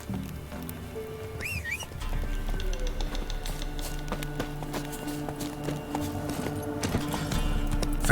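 Horse hooves clip-clopping at a steady pace in The Witcher 3: Wild Hunt, over a busy game soundscape with chirping birds and ambient music, continuing throughout.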